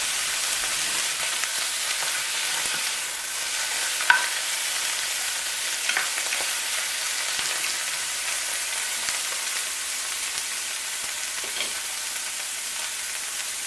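Morel mushrooms and asparagus sauté lightly in a pan, giving a soft, even sizzle with faint intermittent stirring scrapes and one brief clink, steady and fairly quiet without speech.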